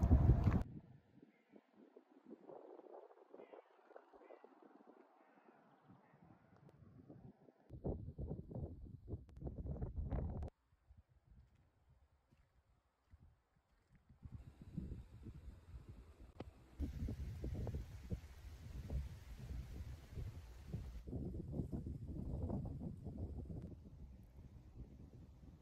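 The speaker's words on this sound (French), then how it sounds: "il y a beaucoup de vent" Strong wind sweeps across open plains in the Oise countryside, buffeting the microphone in low, rumbling gusts that rise and fall, with a calmer stretch in the middle.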